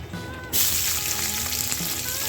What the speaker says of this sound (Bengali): এই যে মাছগুলো এভাবে ভেজে নিয়েছি হালকা করে এখন তেল দিয়ে দিলাম